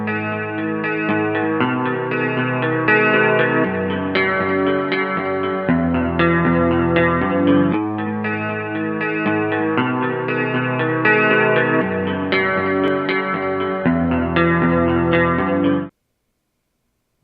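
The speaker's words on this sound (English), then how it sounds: "This is a guitar sound without distortion." Clean electric guitar playing a steady chord progression, bright and undistorted, with no voices, ending abruptly.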